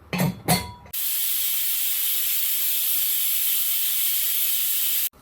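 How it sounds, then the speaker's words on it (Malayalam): A pressure cooker of green peas lets out one long, loud, steady hissing steam whistle for about four seconds after a brief clatter, then cuts off abruptly. "ഇത് ഒരു വിസിൽ വന്നിട്ടുണ്ട്"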